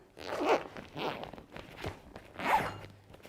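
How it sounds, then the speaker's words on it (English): Several zipper-like pulls sealing a zip-top bag, repeated rasping zips with pauses between them, close and clear. "So you zip it up, you tie the handles"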